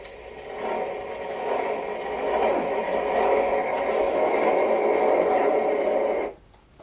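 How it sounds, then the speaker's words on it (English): A recording of a skateboard rolling plays back, a continuous rumbling roar that swells gradually, holds steady for several seconds at moderate loudness, then cuts off abruptly. "So here is the skateboard one more time."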